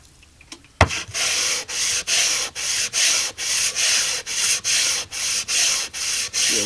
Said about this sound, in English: I am going to switch to a piece of 150 grit, give it a couple swipes on this.